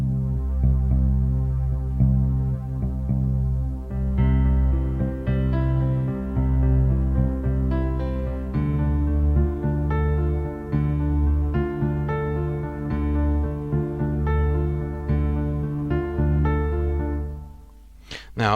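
A synth pad sustains warm, full chords beneath an electronic music track with a steady throbbing low end and brighter repeating notes entering partway, holding a dense, continuous bed of sound until it fades near the end.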